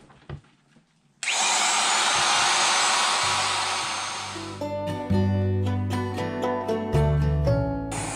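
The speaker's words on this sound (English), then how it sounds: "I want to go in this direction with the router so that it doesn't scoot along." A router rounding over the edge of a wooden strip while building a St Lawrence skiff. It starts after a brief quiet moment with a loud, sustained whine, then winds down into a steady tonal hum.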